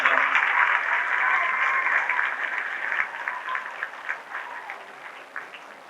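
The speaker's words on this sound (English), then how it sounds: "How about giving these two a round of applause?" An audience at a 1990 flag presentation led by a US Marine staff sergeant breaks into sustained applause, a dense even clapping that holds for several seconds and then thins out into scattered claps.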